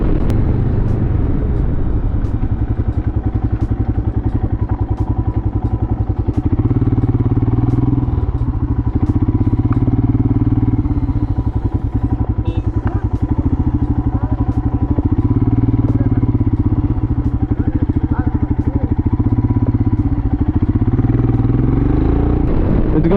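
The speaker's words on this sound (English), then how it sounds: "So I'm riding the Himalayan right now." A Royal Enfield Himalayan motorcycle heard from the rider's seat on a long highway ride near dusk: loud, constant engine thrum and low rumble mixed with heavy wind buffeting, steady throughout.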